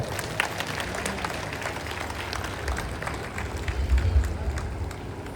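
Audience clapping at a Hindu gathering, a steady dense applause that swells slightly toward the end, with some low rumble and crowd noise throughout.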